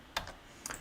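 A computer keyboard being typed on gives two brief, faint clicks about half a second apart in a quiet room, with no voices.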